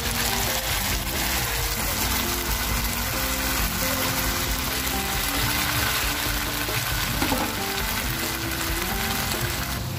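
A mixed spice paste poured into onions frying in oil for a Bengali fish curry, producing a loud, continuous sizzle and bubbling with gushing liquid sounds and steady background tones, no talking.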